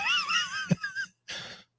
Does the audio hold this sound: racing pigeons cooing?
no